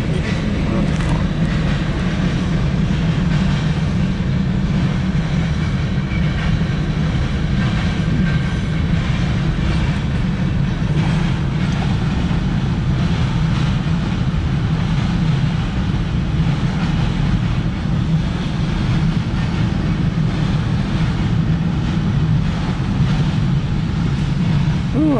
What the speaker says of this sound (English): I thought I missed this train.